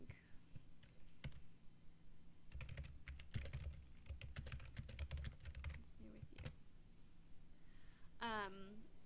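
Typing on a computer keyboard while entering dialogue text into animation software, rapid irregular key clicks in bursts, close and clear, with someone talking quietly in the background.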